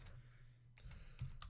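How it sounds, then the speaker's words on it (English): Someone types on a computer keyboard close to a microphone: a few scattered, faint keystroke clicks over a quiet room hush, with no one talking. "I'm typing around my microphone here."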